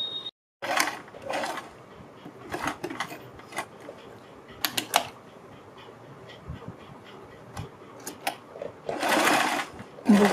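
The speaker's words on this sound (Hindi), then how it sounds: "यहाँ से सिलाई लगानी शुरू करेंगे और हम यहाँ तक सिलाई लगाएंगे" A sewing machine stitches around a kurti neckline in short bursts of whirring, close and fairly loud, with pauses and soft handling sounds between runs.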